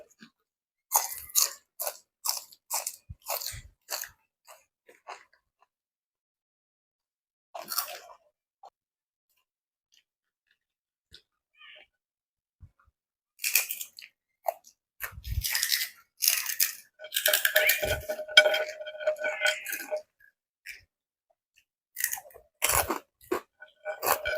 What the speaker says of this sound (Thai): ซีเนี่ยมากัดมะเขือแม่ไวเนี่ย